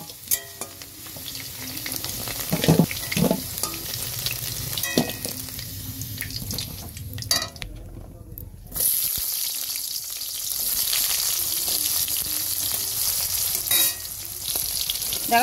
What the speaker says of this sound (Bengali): সবজিগুলো আমি কড়া করে ভাজছি না, একটু হালকা করে ভেজে নিচ্ছি